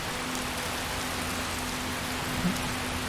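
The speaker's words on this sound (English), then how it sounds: "And of course it is still pouring rain." Heavy rain pours steadily outside a keep in the fantasy game Skyrim, a dense even hiss of drops with a faint low hum underneath and no talking.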